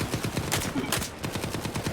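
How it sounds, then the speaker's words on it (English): Heavy automatic gunfire in the shooter game STALKER 2 rattles in rapid, continuous bursts, loud and close, layered with overlapping shots. "That amount of gunfire cannot be..."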